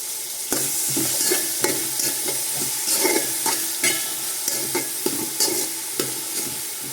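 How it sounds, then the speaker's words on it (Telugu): Onions with salt stirred in a hot pan for mutton biryani, a steady close sizzle with repeated scraping strokes of a spoon against the pan and no talking. "మూత పెట్టేసి మగ్గనిద్దాం ఆనియన్స్ని"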